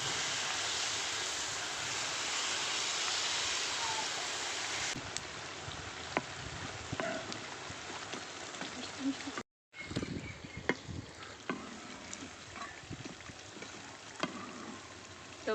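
Rain falls in a steady, fairly soft hiss that fills the background. A brief dropout interrupts it midway, and scattered small ticks and clicks sit on top.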